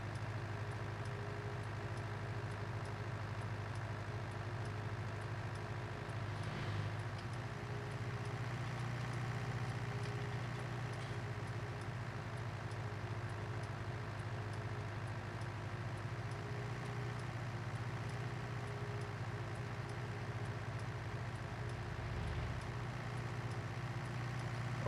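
Tractor engine in Farming Simulator 19 pulling a load, a constant low drone with a steady hum, even and unchanging throughout, with no talk.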